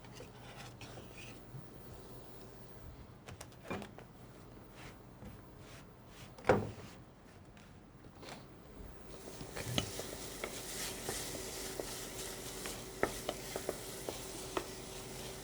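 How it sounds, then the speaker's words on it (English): Chopped red peppers and onions sauteing in a pan: quiet utensil clinks and taps against the pan at first, then a steady sizzle with scraping and stirring, fairly faint and without talk. "Saute your peppers and onions for about 3-4 minutes until they get nice and translucent"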